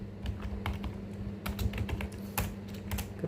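Rapid typing on a computer keyboard while entering a MySQL command, a close run of uneven key clicks and taps with brief pauses, no talking.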